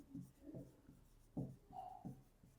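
Pen writing on paper while working a Class 7 triangle angle-sum problem, giving a few soft scratchy strokes in short bursts, close and quiet, with no talk.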